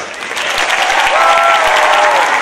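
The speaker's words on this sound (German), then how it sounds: "Ein Applaus!" Audience applause fills a Christmas circus tent in Koblenz, a dense, steady patter of many hands clapping close by, sustained throughout without a break.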